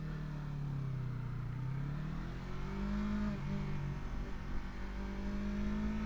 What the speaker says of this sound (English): the bike isn't gonna accelerate as fast as you might like it to. And that's because it's trying to rev itself up into that power range